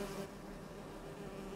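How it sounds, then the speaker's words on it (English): A queen bee buzzes in a children's cartoon, a faint, steady insect drone held alone without any talk. "There she is, the queen bee."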